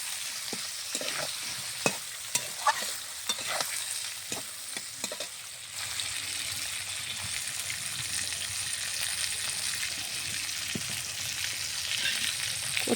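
Taro pieces frying in a hot pan for a Bengali spicy taro dish, with a steady close sizzle throughout and a string of sharp clatters and stirring knocks during the first half.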